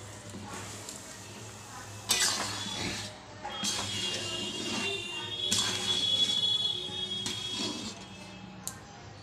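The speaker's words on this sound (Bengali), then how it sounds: "আমগুলো সব কড়াইয়ে দিয়ে দিলাম।" Mango pieces are tipped from a container into a metal kadai on the stove for pickle, giving bursts of clattering and scraping against the pan amid faint sizzling, with quiet voices in the kitchen.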